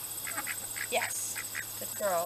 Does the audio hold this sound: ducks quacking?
yes